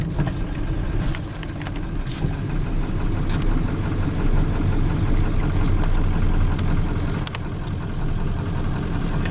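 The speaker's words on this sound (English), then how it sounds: "So slowly but surely tractoring it up there." A tractor engine runs steadily on a gravel track at an off-grid homestead cabin site, a loud continuous low rumble with metallic rattling and clinking over it throughout, no talk.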